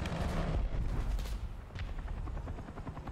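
Tank main gun firing in the video game War Thunder, a heavy booming blast at the start followed by rumbling decay and a chopping helicopter rotor pulsing behind it.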